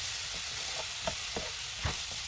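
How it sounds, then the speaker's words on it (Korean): Radish being stir-fried in a pan with soy sauce and oyster sauce, giving a low steady sizzle with a few soft scraping stirs, close and fairly quiet, with no talk. "이제 양념은 진간장 2스푼에 굴소스 반스푼 넣어서 볶아주시고요."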